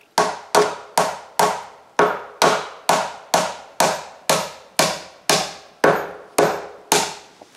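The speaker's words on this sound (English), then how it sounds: "we nail some braces" Hammer blows drive nails into braces on a wooden woodshed frame, about fourteen sharp, evenly spaced strikes in a steady rhythm, loud and close, each with a short ringing decay.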